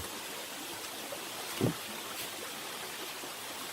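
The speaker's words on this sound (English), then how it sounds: "Still valley stream water looks so nice and beautiful" Mountain valley stream on Juheulsan Mountain in Munkyeong, Korea, a soft steady wash of flowing water heard at a distance, faint and continuous with a brief knock partway through.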